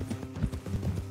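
Horse hooves clip-clop in a quick, steady rhythm in Red Dead Redemption 2, fairly close, several footfalls in just over a second.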